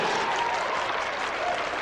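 Steady applause from a tennis crowd at the 1984 Dallas final, a dense wash of clapping at even loudness throughout the brief moment, with no voices standing out.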